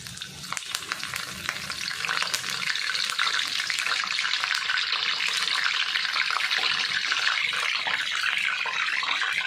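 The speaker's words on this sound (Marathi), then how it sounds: "तेल आता गरम झालं आहे आता कढीपत्ता टाकून घेऊया आपण" Curry leaves dropped into hot oil in a pan sizzle loudly and steadily, a dense close crackling hiss that holds from start to finish with no voices.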